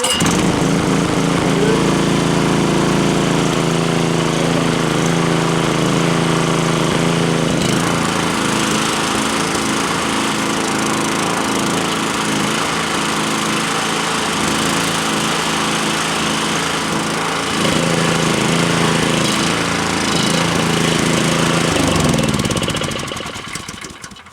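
A petrol engine-driven gas machine runs steadily to pump gas into vole burrows underground, a loud continuous rough mechanical drone that shifts in pitch partway through and cuts off at the end.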